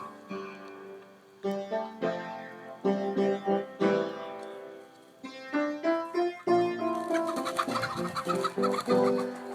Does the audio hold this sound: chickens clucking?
yes